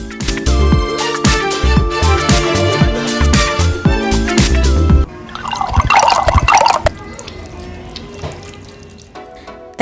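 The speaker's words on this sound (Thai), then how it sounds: "มีอ่างไว้ให้ล้างมือได้ด้วย" Tap water runs steadily into a hand-washing basin at a street-food market in Kolkata, India, loud and close, then gives way to splashing and dripping with busy market noise around it.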